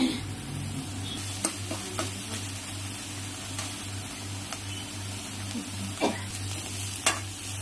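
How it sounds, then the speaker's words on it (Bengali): Ghatkol leaf paste with turmeric cooks in a wok, giving a steady low sizzle and hum with occasional scraping taps from stirring, close and fairly quiet. "কড়াইটা দিয়ে আমি ঘাটকল পাতাটা নাড়তে থাকবো"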